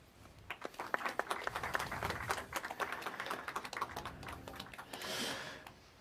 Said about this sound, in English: give a little round of applause to Alan as he comes on stage